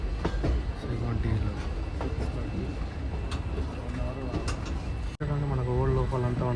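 A passenger train on the Hyderabad to Goa route rolls along the rails with a steady rumble and rhythmic clatter heard from inside a general coach, a sharp knock near the end, and voices talking over the noise.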